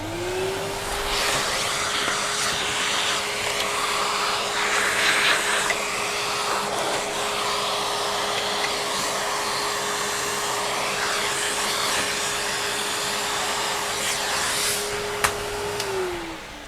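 A Henry vacuum cleaner runs with a loud, continuous motor drone and airy rush, starting up and shutting down at the end, with no voices.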